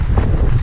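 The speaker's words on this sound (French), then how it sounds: "Tu vois le vent qu'il y a?" Wind buffets a GoPro camera microphone outdoors, a loud, continuous low rumble with no pauses for the whole brief stretch.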